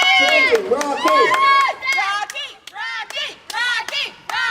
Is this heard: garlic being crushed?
no